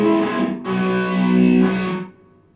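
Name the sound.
electric guitar intro with effects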